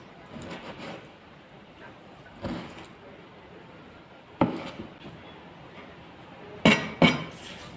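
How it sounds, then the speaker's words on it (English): A knife cutting meat for homemade momo in a Kohima, Nagaland kitchen: soft scraping strokes punctuated by a few sharp knocks and clinks of the blade against a board, spaced irregularly with quiet gaps between. "now I'm cutting this meat"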